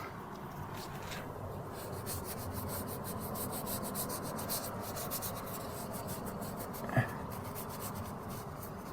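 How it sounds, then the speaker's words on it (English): A cloth wipes a boat hull clean with rubbing alcohol, giving quiet rhythmic rubbing strokes in a fast back-and-forth pattern, close and soft, with one brief louder knock near the end. "Let's wipe it again and see how it looks"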